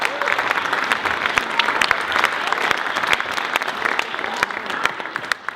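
A large indoor audience at a Europe-based NHT Global network marketing event applauds first-time guests, giving sustained, dense clapping with a few cheers, steady and moderately loud throughout.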